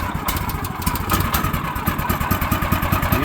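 A 14 horsepower Kohler engine with electric start cranks and catches, then runs with a loud, close, rapid chugging pulse that settles into a steady rhythm.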